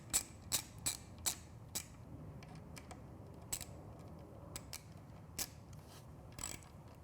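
A 4mm Allen hex bit snugs a bolt on a retro headlight bracket of a Triumph Street Twin, giving a series of close, sharp clicks and ratcheting ticks spaced irregularly over faint background noise.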